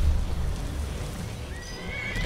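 A horse neighs in the video game The Elder Scrolls V: Skyrim, a rising whinny arriving late over a low rumbling game background, preceded by soft hoof-like thuds.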